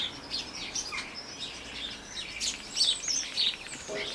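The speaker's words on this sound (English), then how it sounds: "Definitely starlings." Starlings and sparrows chirp together in a small woodland garden, giving a continuous mix of high tweets, whistles and rattling chatter at moderate distance over soft background noise.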